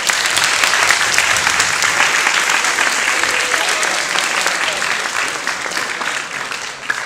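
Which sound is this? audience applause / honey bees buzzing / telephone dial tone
audience applause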